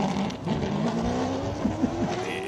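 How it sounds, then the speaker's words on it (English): A classic hillclimb car with a Hendrix NASCAR engine runs at the Simola Hill Climb. A loud, steady engine roar climbs in pitch with quick shifts and brief revs, close by and alone without talk. "Jimmy Giannaccaro in with a Hendrix NASCAR engine."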